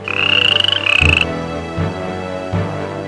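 A frog croaks close by in loud repeated bursts, with a whistling tone early on and a few more croaks after.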